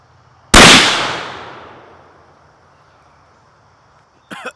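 A black powder muzzleloader rifle with a light, crisp trigger fires one loud, close shot whose boom decays slowly over a couple of seconds, then a brief cough-like sound follows.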